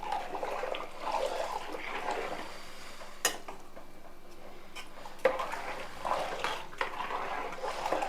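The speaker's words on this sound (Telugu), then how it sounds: "ఇలా కలుపుకుంటూ అంటే వేస్తూ కలుపుకోవాలి ఉండలు కట్టకుండా చక్కగా వస్తుంది" Rice flour is stirred into cooked sago in a pot while making rice papads: a soft scraping swirl of spoon through thick mixture, quiet and close, with a few sharp clinks of utensil against the pot.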